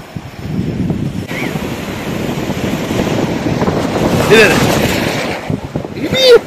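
Big ocean waves breaking with heavy white foam at Anjuna Beach, Goa, a continuous loud surf roar with wind buffeting the microphone and a swell that builds toward the end.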